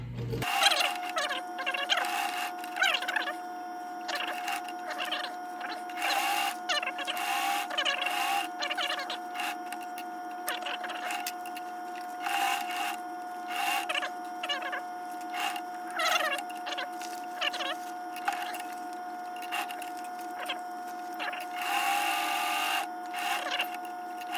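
Sewing machine stitching a crossbody bag, running in repeated bursts of rapid mechanical clatter, some short and some longer, with brief pauses between runs, close and fairly steady in level.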